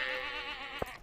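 A fluffy sheep in Stardew Valley lets out one long, wavering bleat, close and fairly quiet, with a brief soft click near its end.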